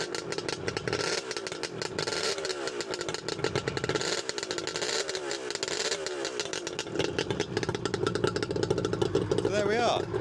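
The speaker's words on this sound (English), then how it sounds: "Another little rev." A 1977 Suzuki GT380 two-stroke motorcycle fitted with expansion chambers, revved at close range, a buzzing engine note swelling and falling back repeatedly, with a person talking over parts of it.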